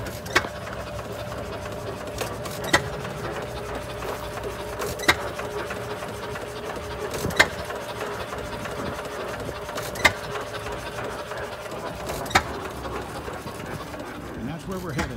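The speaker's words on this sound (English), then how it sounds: "Old hit and miss engines." An old hit-and-miss engine runs in the background, firing with sharp periodic pops roughly every two to three seconds between quieter stretches, heard at moderate distance.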